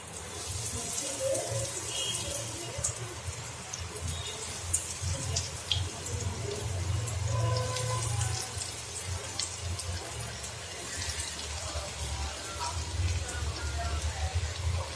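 Potato bread rolls frying one at a time in hot oil on a low flame, a faint steady sizzle and crackle with scattered small pops running throughout, close by.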